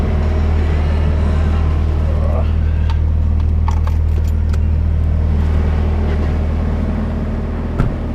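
A car's key fob and keys jangle in a few brief metallic clinks and taps against a loud, steady rumble of nearby traffic and engines outdoors.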